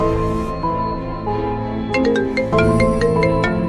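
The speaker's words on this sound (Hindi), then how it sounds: "तभी स्काइलर को किसी का कॉल आता है और स्काइलर अपने पॉकेट से फोन निकालता है" A mobile phone ringtone for an incoming call sounds over a steady music bed, its bright repeating tones entering around the two-second mark and growing louder and more insistent toward the end.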